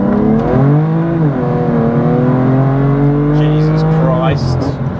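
A heavily modified BMW M4 CS launches hard from a standstill with wheel spin, its loud engine rising in pitch through the gears, close and dominant, with a voice exclaiming near the end.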